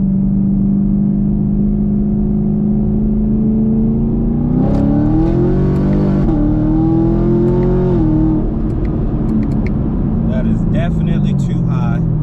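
Supercharged Chevrolet Camaro SS engine held at wide open throttle, a loud steady drone that climbs in pitch midway as revs rise, then settles, heard from inside the car.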